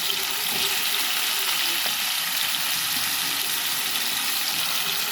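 Onion, green chilli and drumstick pieces fry in hot oil, giving a steady, dense sizzle that runs evenly throughout with no voices over it.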